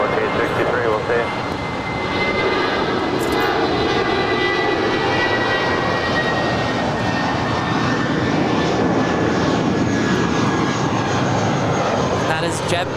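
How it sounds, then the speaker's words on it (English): JetBlue Airbus A320 jet taking off at LAX, a loud sustained engine roar that holds steady and swells slightly over several seconds, heard from a spotting position on the ground. "That is JetBlue 1463 off to San Jose del Cabo. It's an A320."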